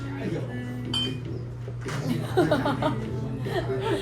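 Wine glasses clink in a toast at a wine bar, a brief bright chime near the one-second mark, followed by talk and laughter from a small group at the table.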